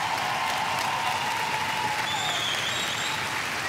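A studio audience at a German TV entertainment show claps in a sustained wash of applause, even and continuous from start to finish, with a few faint whistles near the end.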